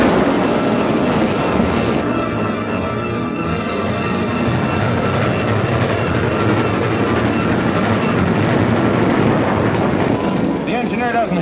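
A train rumbles steadily along the rails in a 1948 Republic serial, a dense, continuous clatter and roar with wind-like rushing throughout, no voices over it.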